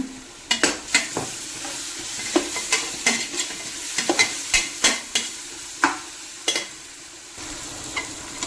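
Crushed ginger, green chili and garlic frying in a pan, with a steady soft sizzle under repeated sharp scrapes and clanks of a spoon stirring against the metal, close and fairly loud, with no talk.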